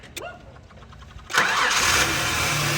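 A starter cranks briefly, then a Ford Ranger pickup engine catches with a loud roar and settles into a steady, rumbling idle close by.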